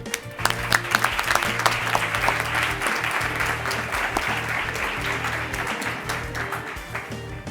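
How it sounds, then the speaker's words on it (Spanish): A university debate tournament final audience at the Universidad de Extremadura gives sustained applause, a loud, dense, even wash of clapping close to the listener, with a low steady hum beneath. "Un fuerte aplauso."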